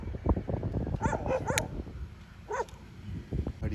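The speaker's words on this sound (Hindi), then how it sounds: "ये हमें देख के ही भौंक रहे।" Several stray dogs near a seaside shore bark and yip in a few quick bursts, moderately close and loud, with gaps of quieter ambient noise between them.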